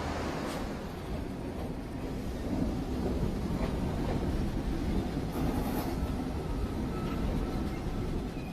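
An overhead-line electric multiple unit train approaches Glasgow Central station in 1973, a continuous deep rumble of wheels and carriages rolling along the track with faint rattles above it, no voices.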